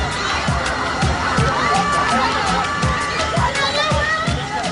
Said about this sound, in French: des cris se font entendre.